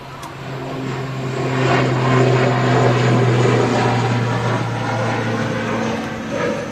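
An ATR 72 turboprop takes off from runway 23 right, its propeller drone rising to a loud, buzzing peak and then slowly easing off as it climbs away.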